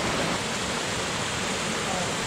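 A waterfall inside a cave pours out of the rock with a dense, even roar of rushing water, loud and close, steady throughout without any voices.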